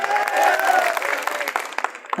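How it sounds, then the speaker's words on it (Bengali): Audience applause at a stage show, a short burst of clapping from a crowd that is loud at first and then thins into scattered claps, with a voice briefly present. "আপনারা ওনার জন্য একটা জোরসোর হাততালি দেন"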